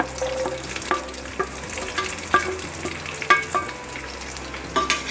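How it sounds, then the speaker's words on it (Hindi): Chopped onion frying in a pan hisses steadily up close as a spatula stirs it, with repeated light clicks and scrapes against the metal. "उतना हम इसे फ्राई करना है"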